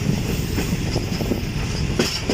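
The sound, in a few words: Awam Express train running at slow speed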